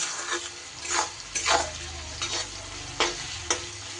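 Onions sizzling in oil in a pan while mung dal is cooked, with a steady crackling fry broken by several sharp scraping stirs of a spoon, close and clear, no talk.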